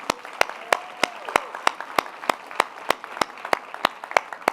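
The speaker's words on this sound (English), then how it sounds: "Let's give a round of applause to everybody." A conference audience claps at a build event, with sharp, evenly spaced claps that sound like a few hands near the microphone rather than a full roaring crowd, and faint murmuring beneath.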